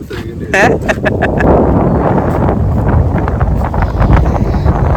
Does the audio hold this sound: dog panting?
no